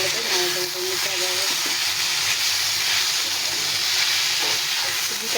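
Pasta with tomato ketchup and soy sauce sizzles steadily in a pan while being stirred, a loud, continuous hiss with faint scraping and no talking.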